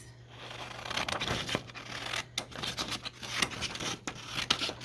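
Scissors cutting through paper while building a junk journal folio, a run of close, crisp snips and crinkly paper rustles in an uneven rhythm, with no talk.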